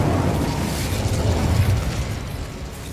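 A fire spell cast in Hogwarts Legacy: a loud, sustained roaring burst of flame that holds steady for about three seconds with a dense low rumble and no talk.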